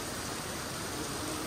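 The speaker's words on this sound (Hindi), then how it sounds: "क्या लगता है बारिश बंद होगी?" Heavy rain pours in a steady, dense hiss at night near a petrol pump, continuous and loud with no speech.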